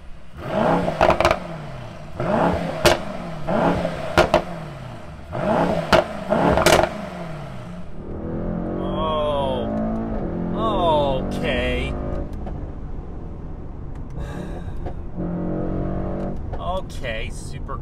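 A 603 hp 2020 Mercedes-AMG E63 S Wagon accelerates hard in a rapid series of loud revving surges, then settles into a steadier drive while people talk over the engine.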